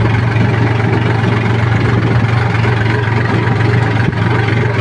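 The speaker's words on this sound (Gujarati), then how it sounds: "ટ્રેક્ટર રાખી રહ્યા है" A tractor engine idles nearby, a loud, steady low rumble with an even throb and no change in pace.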